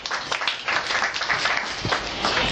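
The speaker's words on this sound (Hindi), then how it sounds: "दया शंकर जी के लिए तालियां।" An audience claps continuously for a society member being honored, a thick, even wash of applause with faint voices underneath.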